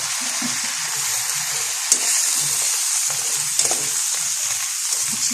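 Garlic, green chili and tomatoes fry in a pan with a steady, close sizzling hiss and a few soft stirring scrapes, and no one speaks.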